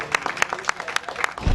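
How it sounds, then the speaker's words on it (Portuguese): Applause greets student Walter Carr as he arrives for a day of work, a burst of clapping from a small group with sharp individual claps standing out, close by. "Walter Carr chegou para mais um dia de trabalho, mas dessa vez sob aplausos."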